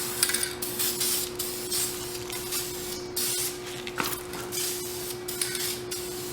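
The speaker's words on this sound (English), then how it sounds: "Try and paint it from all angles." Spray paint hissing from an aerosol can onto a hubcap, short close bursts of spraying repeated in an uneven rhythm with brief gaps between them.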